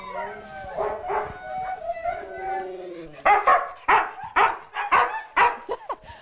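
Husky sled dogs at a husky lodge in Muotathal howl in drawn-out wavering tones, then break into a series of sharp, loud barks and yips close by, with some whimpering mixed in.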